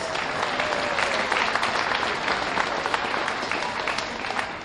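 Dense, steady applause from the crowd at a 2023 swine show for the market-class hog winners, continuous and fairly loud throughout with no break.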